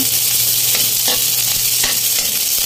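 Onions sautéing in hot oil with browned garlic in a pan for shrimp ginataang, giving a steady, close, loud sizzle with a few soft stirring scrapes and no talking.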